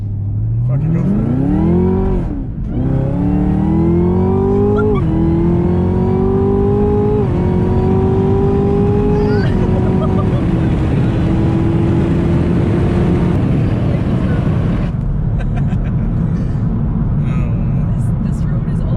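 Chevrolet Camaro ZL1 launching hard at full throttle, loud engine roar climbing steeply through several gear changes with rising pitch, then backing off; a person speaks briefly over the engine.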